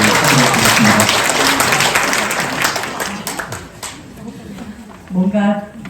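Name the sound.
applause at school parents' association meeting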